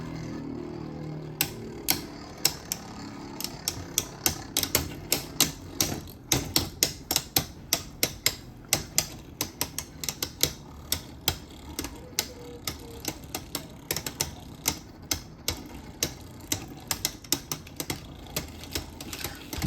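Beyblade spinning tops clashing in a stadium and stalling, heard as a long run of sharp, irregular clicks and ticks that speed up and become dense, close and fairly quiet, with no speech.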